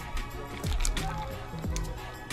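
Liquid pours into a glass for a lime-garnished mixed drink, giving a couple of short squishy, sloshing glugs over a steady background hum, with people talking nearby.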